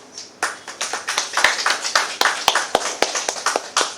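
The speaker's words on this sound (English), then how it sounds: "I request a round of applause for Dr. Kasu Gangadhar Reddy Garu, educationalist and ophthalmologist" A few people clap in separate, distinct strikes at an IAS/IPS exam preparation workshop, an uneven run of sharp near hand claps honoring a speaker.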